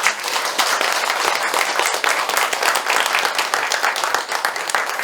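A lecture audience applauds warmly to welcome a cultural history lecturer, steady dense clapping from many hands sustained for the full stretch without a break.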